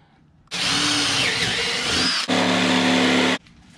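A power drill boring a hole for a fan in a 12-volt lithium power station build, loud and close, in two sustained runs split by a brief pause.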